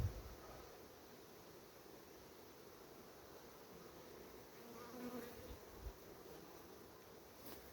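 A steady drone of many honey bees buzzing at small nucleus hives, faint and continuous, with light background hiss and no voices.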